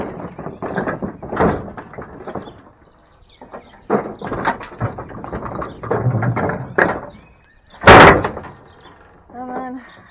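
A Cub Cadet mower deck is flipped back over with clanks, metallic creaks and a loud thump, close by, mixed with someone talking throughout.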